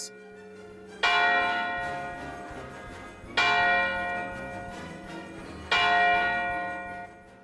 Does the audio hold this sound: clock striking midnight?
yes